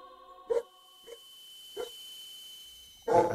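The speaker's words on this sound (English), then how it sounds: "sorry about the dog, it's going crazy" A dog barks four times at irregular gaps, the last bark loudest, with a steady tonal hum from game audio playing behind.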